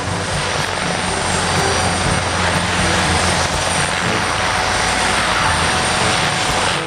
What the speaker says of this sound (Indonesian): di sini ada helikopter militer